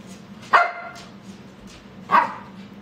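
A dog gives two sharp, separate barks about a second and a half apart, close and fairly loud over a low indoor hum.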